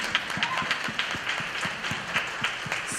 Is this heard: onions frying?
no